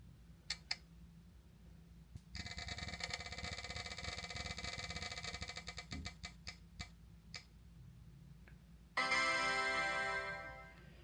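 A spinning prize wheel ticks in a rapid, even run of clicks that slows to a few spaced ticks and stops, followed by a louder bright burst of sound near the end.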